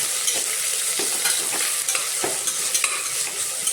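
Onions fry in a pan for biryani, a steady sizzle under repeated scraping stirs of a spoon, close and continuous with no talking.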